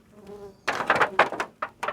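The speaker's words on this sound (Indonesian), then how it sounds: "ini adalah lebah unggulan saya teman-teman" Stingless bees, a combined colony of Biroi and Laeviceps, buzz at the hive in close, loud bursts that flare and fade after a quieter start, with no talking.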